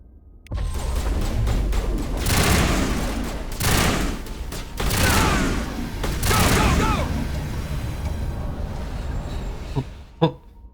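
Heavy gunfire rings out in the Mass Effect video game as an Alliance Marine fights Exogeny mercenaries, sustained bursts and booming shots running for most of the stretch, then fading to a lone thump near the end.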